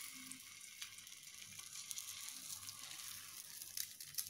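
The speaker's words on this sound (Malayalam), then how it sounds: "നമ്മളുണ്ടാക്കി വെച്ചിരിക്കുന്ന എഗ്ഗിൻ്റെ ബാറ്റർ അതൊന്ന് ഒഴിച്ചു കൊടുക്കണം" Egg batter for a street-style bread omelette hisses on a hot oiled griddle, a soft continuous sizzle with small crackling bursts, close but faint.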